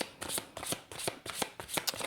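Tarot cards are shuffled close up in a quick series of about six crisp riffling bursts, each a short papery flutter, with no talk over them.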